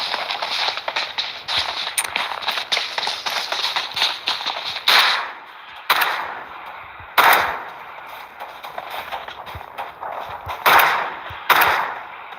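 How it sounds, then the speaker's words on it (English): Video game gunshots: a dense stretch of rapid crackling fire, then several sharp, louder bursts spaced a second or more apart. "You heard those shots whiz by."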